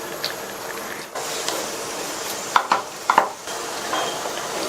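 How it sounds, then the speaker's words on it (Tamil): Kozhukattai dough being stirred in a pan, with a steady soft scraping and a few sharper clinks of the spoon against the metal in the second half, close and alone. "இன்னும் இதே மாதிரி கிண்டி கொடுத்துட்டே இருக்கணும்."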